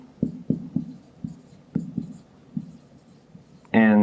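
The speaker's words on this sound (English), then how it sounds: "So let's write this down." Handwritten notes go down in short scratchy strokes, a rhythmic run of close taps and scrapes with small pauses. A louder tone cuts in at the very end, and no one speaks.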